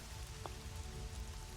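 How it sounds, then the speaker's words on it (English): Heavy rain pours down in a steady, dense hiss, with one brief brighter patter standing out early on; the downpour stays constant and close throughout with no voices. "It is a very heavy rain, and I swear it feels like it almost feels like a winter rain."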